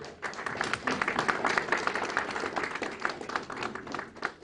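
An audience claps together in a dense, steady wash of applause that carries on for several seconds without letting up.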